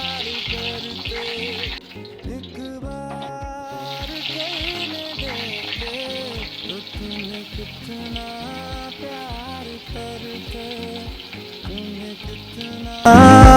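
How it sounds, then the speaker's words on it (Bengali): Potatoes and flat beans fry in a pan with a steady low sizzle heard beneath loud rhythmic music, with a sharp burst of noise at the very end. "এবার আলু আর সিম অল্প অল্প করে ভেজে নেওয়া হবে।"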